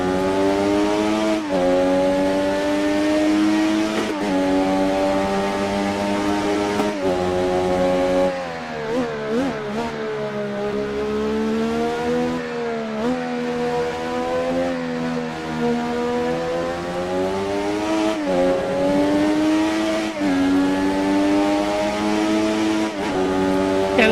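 F1 car engine in a racing video game at Suzuka, whining at high revs and climbing through the gears with rhythmic shifts and dips, steady and loud throughout, with no talking.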